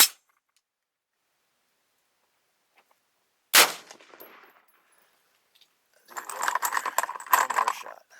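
Rifle firing a cast 55-grain .223 bullet at a steel target, a sharp single shot near the start, a second crack midway with a short fading ring, then a burst of jangling metallic rattle.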